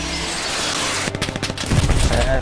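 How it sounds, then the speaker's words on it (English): Artillery fire in Hell Let Loose, a burst of rapid heavy blasts and crackling impacts closing in loud at the end, with a little talk around it. "Artillery."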